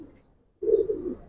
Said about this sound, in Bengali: এগুলো আসলে পুরান জাতের কবুতর